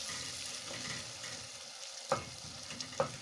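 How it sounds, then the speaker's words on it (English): Pilau with garlic frying in a pot as it is stirred, a steady low sizzle with soft scraping, two sharp spoon knocks against the pot near the end; no talking. "I'll stir it very well. And I'll make sure all of them cooked until it turns to golden brown."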